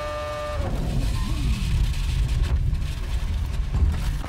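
A Formula 1 car at about 300 km/h reaches the end of a straight at the Chinese circuit, its engine a loud, continuous roar with a high whine that drops in pitch early on, heard alone without talk.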